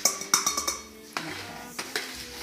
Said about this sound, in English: We're going to continually stir this now for 15 minutes